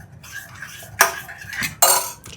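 A spoon stirs maida flour and milk in a pan for a cheesy corn dip, with soft scraping broken by two sharp, close metallic clinks against the pan.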